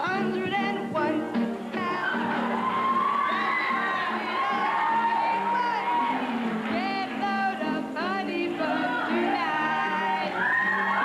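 An audience cheering, whooping and shouting in a continuous loud roar of many voices, rising and falling without a break.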